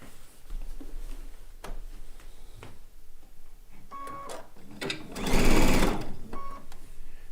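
Sewing machine stitching a seam on a blue and white quilt top, in short bursts of rapid mechanical whirring with pauses between them and one louder, longer run near the end, close up and alone.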